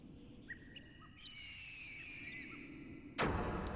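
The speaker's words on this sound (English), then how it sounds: "I like all the stock bird sound effects." Stock bird sound effects in the PS1 game Vagrant Story: a handful of short, moderately faint chirps and tweets over a low ambient bed, ending with a sudden louder noise burst.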